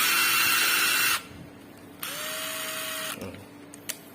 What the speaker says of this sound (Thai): เป็น ไขควง ไร้สายกระแทกนะครับผม